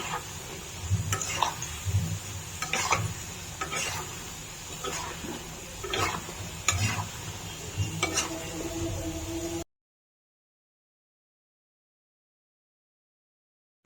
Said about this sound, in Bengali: ভালো মতো এটা ভেজে নিব লাল লাল করে